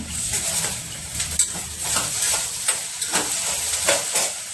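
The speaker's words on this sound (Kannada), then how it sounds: "ಬೆಂಡೆಕಾಯಿ ಪಲ್ಯ ಮಾಡ್ತಾ ಇದ್ದೀನಿ" Okra stir-fry (bhindi palya) sizzles in a pan with a constant bright hiss, broken by repeated scraping stirs and light clinks of the utensil against the metal.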